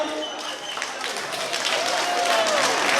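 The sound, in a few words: applause for the runners-up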